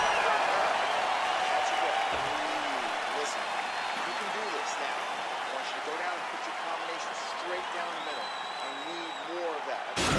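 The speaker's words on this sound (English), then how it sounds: "So the crowd voicing its appreciation after that round." A video game crowd in UFC 4 applauds and cheers after a round, a steady wash of clapping and crowd noise that holds at an even level throughout, with a commentator talking over it.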